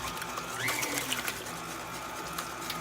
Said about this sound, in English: Once the 8 eggs are beaten, you're going to put them in the mixture of butter and sugar. Mixer back down.